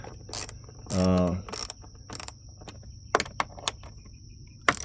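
A 1/4 inch ratchet tightening a paracord grip handle on a 2024 Ford Bronco, heard as a brief close burst of rapid ratcheting clicks followed by scattered sharp clicks and knocks.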